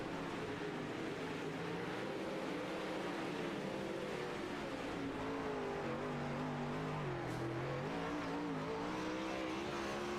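Dirt track race cars roar around the oval at Kokomo, several engines droning together in a steady, loud wash with rising and falling pitch as they power through the turns.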